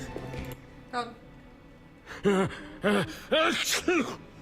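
A faint breathy sound early on is followed by a person speaking in short, loud bursts that sound like excited voices.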